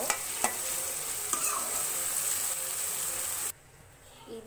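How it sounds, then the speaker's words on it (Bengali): Chopped onions frying in hot oil, a steady close sizzle with a few sharp stirring clicks, cutting off abruptly near the end. "তেলটা গরম হয়ে গেলে এর মধ্যে আমি পেঁয়াজ কুচিগুলো দিয়ে দিব"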